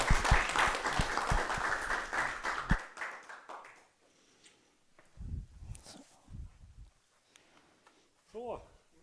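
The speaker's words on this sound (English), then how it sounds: "once again, a big applause for Radek taking time to visit us" An audience at a business innovation seminar claps for a visiting speaker in a brisk round of applause lasting a few seconds, which then dies away into scattered voices and quiet room noise.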